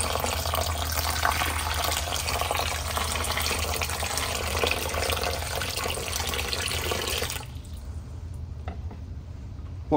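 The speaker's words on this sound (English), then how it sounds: "I'm just going to pour this from some distance, a foot or so above, hope for not too much splatter" Water poured from about a foot above lands on toilet paper in a bowl as a loud, continuous splashing rush for several seconds, then drops abruptly to a quieter trickle and drip near the end.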